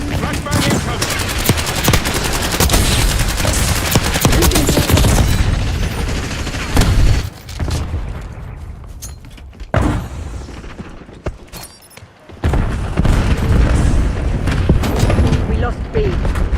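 Dense video game gunfire with rapid bursts and a flashbang grenade blast, continuous and loud for most of the stretch, briefly dropping out twice before the shooting resumes.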